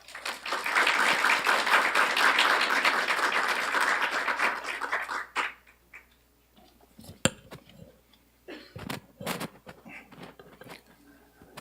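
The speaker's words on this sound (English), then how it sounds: "Please welcome him with a big round of applause." Audience applause at an economic policy conference welcoming a speaker: dense clapping from a large crowd for about five seconds, then it fades into scattered handling knocks and taps in a quiet room.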